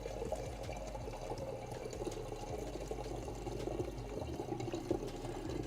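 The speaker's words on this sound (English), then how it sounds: "now we're gonna add our water" Tap water poured through a funnel into an algae culture container, a steady continuous trickling and gurgling stream with a low rumbling undertone, close and even in level throughout, no voices.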